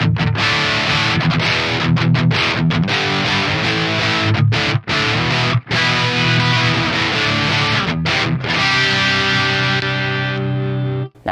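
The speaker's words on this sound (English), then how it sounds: "Now I'm going to go to my bridge pickup in series." Heavily distorted electric guitar riffs from a Tom Anderson Cobra on its bridge pickup in series, run through an Axe Fx III Friedman amp model; loud and continuous with a few short breaks, ending on a sustained ringing chord.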